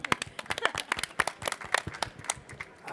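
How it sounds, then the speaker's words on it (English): A small audience at a tech conference session claps loudly and close by, with dense, irregular hand claps rattling for a few seconds and no talking. "Can we just, a round of applause for being honest."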